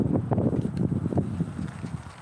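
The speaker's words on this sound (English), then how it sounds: "Now it's windy." Steady low, gusty rumble of wind buffeting the microphone outdoors during baitcasting reel casting, with faint irregular thumps and rustling underneath.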